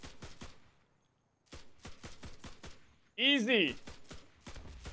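M1 carbine semi-automatic rifle fire in a shooter video game, rapid sharp bursts of shots in quick succession, a brief pause, then another string of shots, with a voice speaking briefly over the gunfire.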